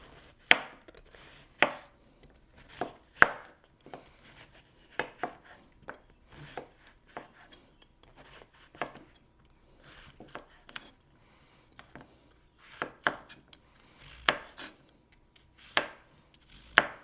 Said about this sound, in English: I'm gonna cut my squash.